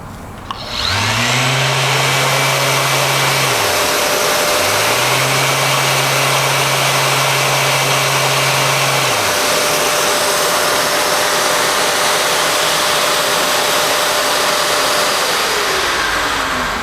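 An electric sander runs at 8,000 RPM on cured epoxy resin, making a loud, steady whine and rough hiss that starts about a second in and holds unbroken to the end with no talking.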